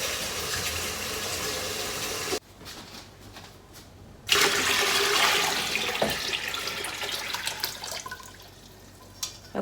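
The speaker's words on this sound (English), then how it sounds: "you just keep adding water until you've got some over the top of your jars" Tap water running into a stock pot for canning jars of homemade blueberry jam, a steady splashing pour that stops briefly, then resumes more loudly and trails off.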